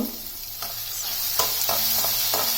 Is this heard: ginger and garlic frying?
yes